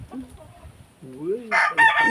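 Chickens cluck softly at morning feeding, then a rooster lets out a loud, close crow that rises and falls near the end.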